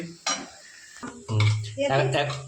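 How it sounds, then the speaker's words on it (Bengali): Onions frying in a pan are stirred with a utensil, giving a few close scraping clatters against the metal over a faint sizzle. "পেঁয়াজগুলোকে সুন্দরভাবে কিন্তু ভেজে নিচ্ছে"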